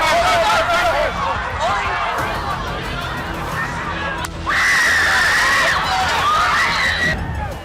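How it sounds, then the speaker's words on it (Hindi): Panicked crowd at an outdoor political rally for former president Trump screams and shouts after gunshots, a dense wall of overlapping shrieks and cries that swells louder midway and stays loud throughout. "ट्रंप के नीचे गिरते ही रैली में चीख पुकार मच गई।"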